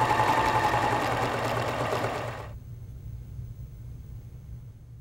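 A Pfaff 2014, 2022 or 2024 sewing machine sewing a right needle taper stitch hums steadily up close, then stops abruptly halfway through, leaving only a faint low background hum.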